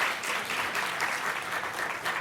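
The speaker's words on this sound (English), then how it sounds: "We need to give her a round of applause." An audience at a conference gathering applauds a Yali Fellow, a steady round of clapping from many hands heard at moderate distance.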